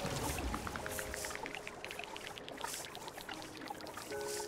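Water pours steadily from a placed water source in the terraforming game Terra Nil, a continuous close trickling stream with small bubbly drips and soft tonal game cues over it.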